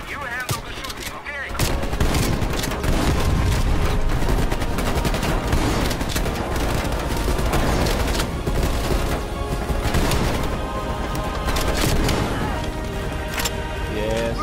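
Rapid, sustained gunfire and explosions from the video game Call of Duty Black Ops Cold War, loud and dense for most of the span, starting after a short quieter opening, with bits of talk mixed in.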